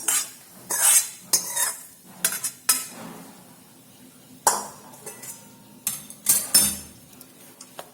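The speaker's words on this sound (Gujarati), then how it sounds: "અને આપણે તેની અંદર મિક્સ કરી લઈશું." A spoon stirs ghee-fried cashews and almonds into boondi in a metal pan for besan laddu, giving repeated scraping clinks and taps in an irregular rhythm, close and fairly loud with quiet pauses between strokes.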